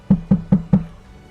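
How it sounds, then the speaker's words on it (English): A polite knock on a door: four even, evenly spaced raps, close and crisp, followed by quiet. "you and Arya in the room right now, Piper, so you hear a polite tap on the door"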